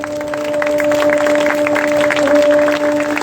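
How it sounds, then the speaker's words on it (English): A school audience of management, staff and students at Omkar Educational Trust School claps to welcome a guest speaker. Dense, steady applause fills the whole stretch at even loudness, with a constant electrical hum running beneath it. "Let's keep clapping and cheering our speaker for the day with a thunderous round of applause, everyone."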